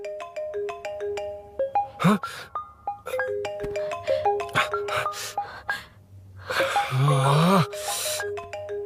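A mobile phone plays a melodic ringtone in a film scene: steady electronic tones repeat over several seconds, broken by short gasping vocal sounds and a brief questioning voice.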